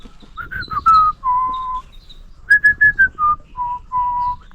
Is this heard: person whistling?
yes